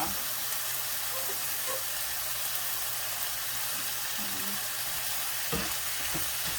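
Ginger chicken stir-fried in a pan, shallots going in at the end, gives a steady loud broadband sizzle with a few scraping stir clanks near the end; no talk.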